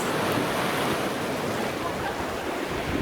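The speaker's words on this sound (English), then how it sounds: "Listen to that sea." Sea waves washing onto Whiterock Beach in Dublin, a dense continuous roar of surf with wind noise against the microphone, close and loud with no talk.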